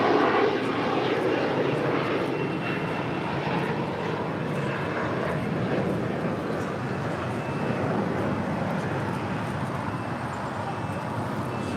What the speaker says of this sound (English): The 787-9 Dreamliner is coming in from Tokyo Narita.